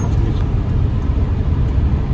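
Heavy road traffic on a busy market street in Coimbatore, India, with a steady dense low rumble of cars and buses passing close by, no speech.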